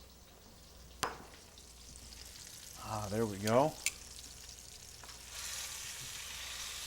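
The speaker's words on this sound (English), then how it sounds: "let's take a look at our pork browning up" Pork shoulder browns in a hot pan for a beer braise, a steady close sizzle with a brief stirring scrape partway through and a short spoken remark over it.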